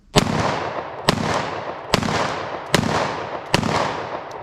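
Five loud, sharp gunshots from a .40 caliber pistol fired limp-wristed, spaced roughly a second apart, each with a short echoing decay and no talking.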